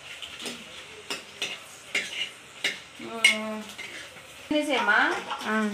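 Fryums crackle and sizzle in hot tempering oil in a pan, with a utensil scraping and clinking against the metal now and then, while someone talks over the cooking.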